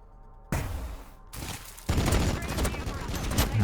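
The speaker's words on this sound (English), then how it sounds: "he's using his Assault Cannon" An Assault Cannon opens up in Warhammer 40000 Battlesector, a rapid burst of gunfire that begins with sharp cracks and builds into a dense, continuous rattling volley over about two seconds.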